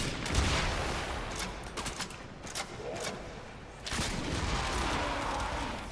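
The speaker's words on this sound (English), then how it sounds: "Quite effective, that cannon." A cannon fires in the video game Warframe, giving a run of sharp, booming shots amid dense gunfire-like bursts, loud and continuous without talk.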